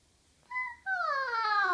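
A human voice imitates a cat's meow, giving two short close mewing calls, the second longer and sliding downward, with no talking in between.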